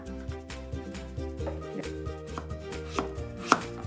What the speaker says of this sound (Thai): เราหั่นเขาบางๆนะคะ